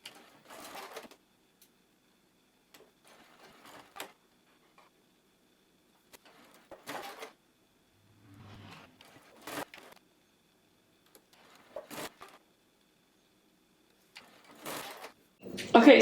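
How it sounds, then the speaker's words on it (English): Domestic sewing machine basting tiny fabric pieces in short, uneven bursts of mechanical stitching, with pauses between runs and a voice speaking at moments. "my machine did not love sewing those tiny little pieces"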